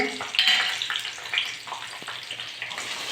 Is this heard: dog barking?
no